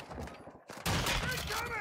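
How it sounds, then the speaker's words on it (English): Gunfire in the video game Warzone 2: after brief quieter sounds, a loud, dense burst of rapid shots erupts and keeps going, close and harsh, with voices mixed in under it. "Taking effective fire!"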